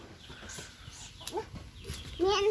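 Chickens cluck near a rural Thai village pasture where cows graze, with a few rising calls and one louder squawk at the end over faint background noise.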